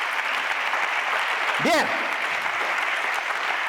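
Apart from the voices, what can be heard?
audience applause in a church service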